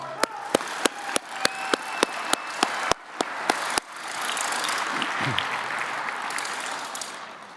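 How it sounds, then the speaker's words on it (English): Banquet audience at an awards symposium: about a dozen sharp, evenly spaced single claps first, then the whole room breaks into sustained, fairly loud applause. "A round of applause for all those who put this on."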